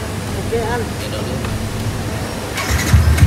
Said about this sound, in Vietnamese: đó máy móc nè đó tiếng bô nè